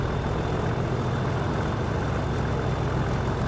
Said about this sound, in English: I prefer being on the outside camera because I can hear the actual diesel engine.